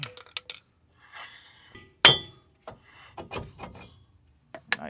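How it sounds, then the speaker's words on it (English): A small hammer taps a wheel hub loose from a brake rotor on a school bus, with a scatter of light metallic clinks, one sharp ringing strike near the middle and several softer taps around it, close up and alone. "This little hammer does the trick every time."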